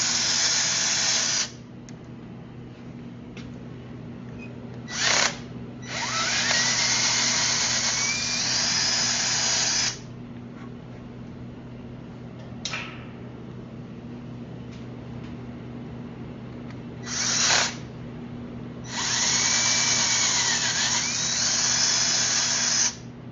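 A high-pitched power drill whines in several long bursts separated by pauses, with brief short revs in between, close by over a steady hum.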